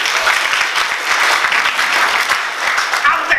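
A church congregation claps their hands in praise during a sermon, a brief burst of dense, lively clapping with rhythmic pulses and some voices underneath.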